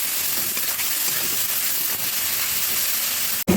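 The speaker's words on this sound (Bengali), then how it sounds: "হলুদ, নুন, একটু জিরে গুঁড়ো দিয়ে এবার মশলাটাকে আমি কষিয়ে নেব।" Spice paste with turmeric, salt and cumin frying in a pan makes a loud, steady close-up hiss and sizzle that cuts off sharply near the end, with no voices.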